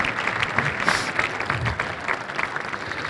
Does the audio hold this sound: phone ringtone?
no